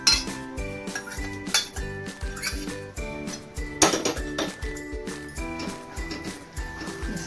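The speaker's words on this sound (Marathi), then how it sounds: "भाजी परतून घेणार आहोत मसाल्यामध्ये" Mashed vegetables for pav bhaji get stirred into masala in a pan, with repeated metallic clinks and scrapes of a spoon against the vessel in an uneven rhythm, close and moderately loud.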